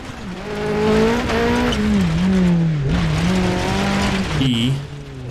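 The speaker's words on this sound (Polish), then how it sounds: "Taki dźwięk silnika przetłumiony trochę" A rally car in the racing game Dirt Rally 2.0 drives with a muffled engine whose pitch climbs and drops through gear changes, steady and fairly loud, with some talk over it.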